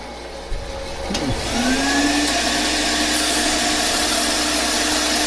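A bandsaw cutting a thin slice of about an eighth of an inch off a log, its motor whining up to a steady loud roar with a rising tone as the blade bites, no voices.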